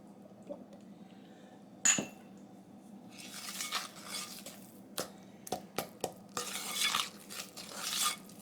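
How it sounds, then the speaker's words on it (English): Brownie batter being stirred vigorously in a bowl after an egg is added, quiet at first, then a sharp knock followed by a run of rhythmic spoon scrapes and clacks growing busier toward the end, close and without talk. "Then add the eggs one at a time, stirring it vigorously after each egg"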